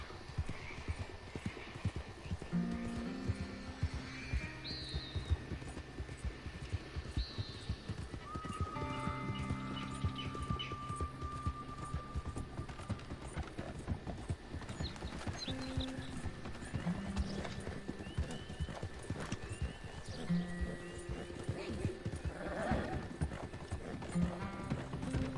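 Horse hooves clip-clopping in Red Dead Redemption 2, a steady walking rhythm throughout with occasional whinnies and ambient game music layered on top.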